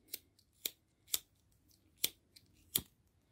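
Scissors snip crochet thread five times in an irregular rhythm, each cut a crisp, close click in an otherwise quiet room.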